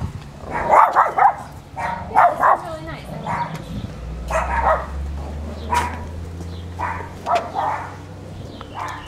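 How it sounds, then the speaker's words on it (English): A dog outdoors in the hills of Escondido, California gives a series of short yips and barks in irregular bursts, moderately near, while people talk between and over them. "Oh, there's a dog on the other side."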